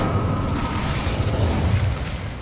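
A fire spell being cast in the video game Hogwarts Legacy gives a steady, dense whooshing roar with a low rumbling body, sustained at even loudness for a couple of seconds with no talking.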